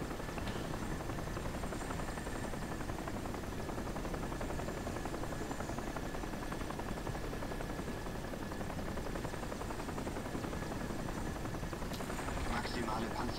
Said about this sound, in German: hört sich mal wieder ganz nach dem Helikopter an